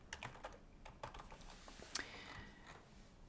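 Typing on a computer keyboard while coding, a quiet close run of quick irregular key clicks with one sharper tap near the middle.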